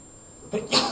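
A single short sneeze, a quick intake followed by a sharp burst, close by in a quiet room.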